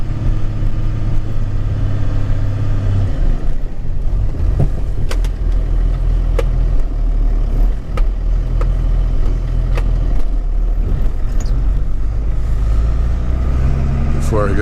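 A Ford Excursion with a Cummins diesel engine plows snow, its engine a steady low rumble close by with gear and load changes, and occasional scraping knocks from the plow.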